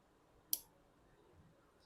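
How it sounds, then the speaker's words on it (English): Scissors snip excess yarn while finishing a small crochet evil eye keychain, a single sharp, close click in an otherwise quiet room. "And now we will cut the excess yarn."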